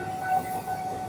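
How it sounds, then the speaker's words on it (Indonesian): Commuter train passing near Citayam station, a steady low rumble with a faint sustained whistle-like tone running throughout the short moment, no voices. "Itu ada kereta lain yang melintas"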